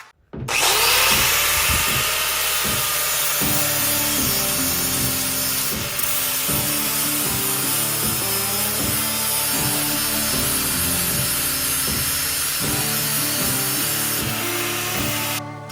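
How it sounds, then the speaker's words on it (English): Power grinder notching steel chassis tubes for a Jeep YJ buggy tub stretch, a loud close whine that runs nearly sixteen seconds with uneven pulsing as the disc bites and eases off the metal. "Whilst Walter was finishing up the grinding"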